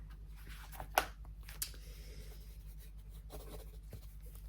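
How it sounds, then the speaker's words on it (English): Quiet pen-on-paper writing of face and body measurements in an ASMR session, soft scratchy strokes with a couple of sharper taps, close and intimate over a low steady hum. "I'm going to write these down before I forget"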